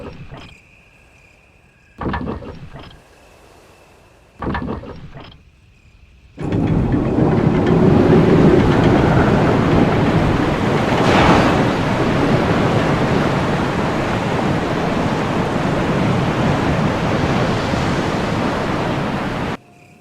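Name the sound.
waterfall in the distance, from video game Resident Evil HD Remaster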